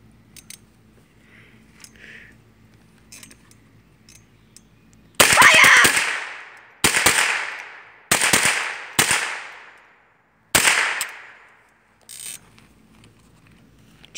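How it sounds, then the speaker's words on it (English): A gun fires on full auto in several sharp, loud bursts of rapid shots, each burst ringing out into an echoing tail, separated by short pauses after a quiet lead-in. "The champion is about to shoot again. Full auto."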